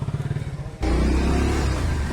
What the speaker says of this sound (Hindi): तो गाइस अभी हम बाइक से निकल रहे हैं।